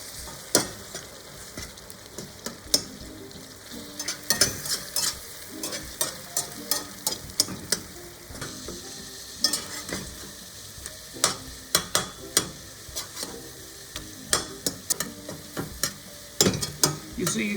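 Eggs sizzle steadily in a pan over medium heat while a utensil scrapes and taps through them, the stirring knocks coming in irregular clusters above a low, even frying hiss; no voices.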